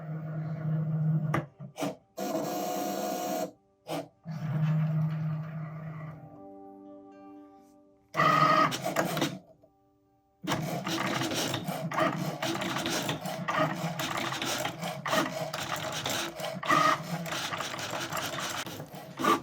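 Cricut cutting machine slicing X and O shapes from Smart Vinyl, with mechanical whirring and scraping passes broken by short pauses, then a long continuous buzzing run of cutting.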